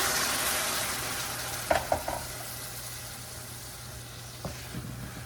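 Spiced chicken curry fries and sizzles in a pan as hot water is added, a steady broadband hiss with a few brief sharper crackles and pops, close and loud.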